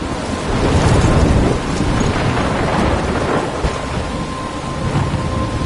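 Heavy thunderstorm in the game Life is Strange: steady loud rain hissing and pouring, with rolling thunder rumbling underneath and gusty wind throughout, no voices.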